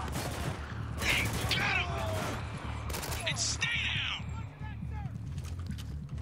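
Rapid gunfire rattles continuously in the video game Spec Ops: The Line, with clustered shots and mechanical clatter layered over a low rumbling soundtrack, loud and close throughout.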